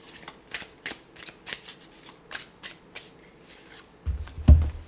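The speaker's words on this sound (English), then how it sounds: "I will now draw a guardian angel oracle card to see if angels are around you for" Guardian angel oracle cards being shuffled by hand up close: a steady run of crisp riffling flicks, ending in a heavier thump as the deck is squared. No one speaks.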